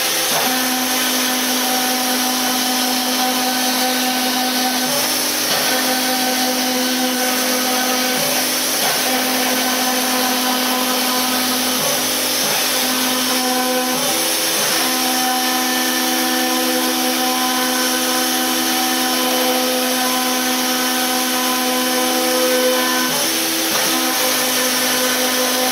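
CNC router spindle spinning at about 15,000 RPM while cutting at 45 inches per minute, a loud steady high-pitched whine with dense harmonics and slight shifts in tone as the bit works the material.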